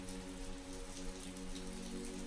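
Steady rain falls in a park, a soft even patter of drops spread across the whole stretch, faint and constant beneath a low sustained musical drone.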